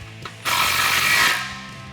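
A ratchet tightens an exhaust muffler clamp during a Flowmaster American Thunder cat-back install on a 2009-2014 Challenger 5.7L, giving a single close, rapid ratcheting burst that lasts about a second.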